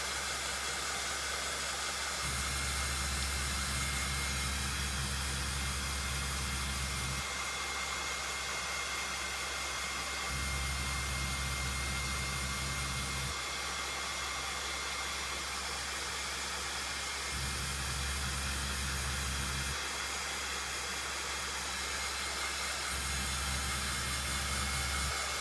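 A hair dryer blows a continuous, steady whoosh while drying paint on a Dollar Tree pumpkin, its roar shifting slightly in pitch at intervals, close and alone.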